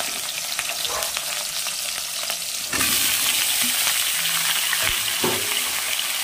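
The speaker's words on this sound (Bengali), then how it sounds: "একটু নাড়িয়ে দিই, নাড়িয়ে দিয়ে তারপরে পুরোটা ভালো করে একটু লাল ভাজা হবে" Cumin and bay leaves fry in hot oil with a steady, close sizzle, joined partway through by a louder hiss as more ingredients go in, and then occasional stirring knocks against the pan.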